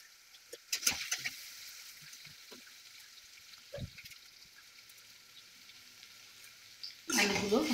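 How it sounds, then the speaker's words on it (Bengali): Potatoes and eggplant fry in a pan for a Bengali bottle gourd leaf curry, giving a soft, steady sizzle broken by a few clinks and stirs of a utensil, then a louder, fuller burst of sizzling at the end. "আলুগুলো একটু লাল লাল করে ভাজতে হবে, আলু এবং বেগুন দিয়ে।"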